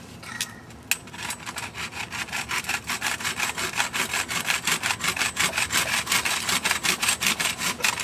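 A hand saw cuts through a thick piece of wood meant for a barbecue, its strokes steady and rhythmic, close and moderately loud across the whole stretch with no talk.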